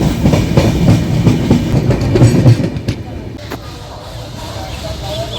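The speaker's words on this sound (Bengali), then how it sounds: "নকশালবাড়ির থেকে ট্রেন ছেড়ে দিল" A passenger train pulling out from Naxalbari on a route out of Siliguri, its running noise a steady, close rumble with rhythmic clatter that eases and grows quieter partway through.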